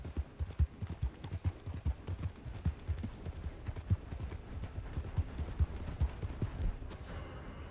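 Horse hooves clip-clopping in the video game Red Dead Redemption 2, a steady rhythmic trot of distinct close hoof beats at moderate volume, continuing without speech.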